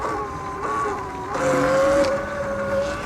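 A Sur-Ron Light Bee X electric dirt bike rides along with a steady rising and falling motor whine as it accelerates, under a rush of wind and tire noise, moderately loud and close.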